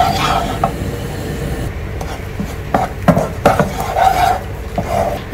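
Ground coconut is stirred into beetroot pachadi in a pan, with close scraping and clinking of a spoon against metal in irregular strokes.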